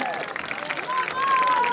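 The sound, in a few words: applause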